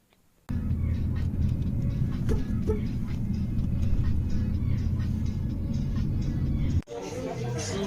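Inside a moving taxi, a steady low road rumble and engine hum fills the cabin after a sudden start, with a brief dip near the end and faint voices underneath.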